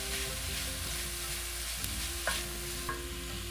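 Onions sautéing in a pan with salt and turmeric for beef vindaloo produce a steady close sizzle, with a few brief stirring clicks and scrapes near the end.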